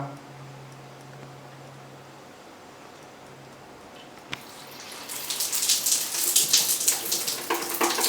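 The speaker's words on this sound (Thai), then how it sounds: "จะเห็นว่าฝักบัวที่เราใช้กันอยู่ในปัจจุบันนี้ น้ำค่อนข้างจะไหล ได้ช้า" An ordinary household shower head is switched on and runs after a quiet stretch, giving a sudden bright hiss of spraying water that keeps splashing close by, with no talk over it.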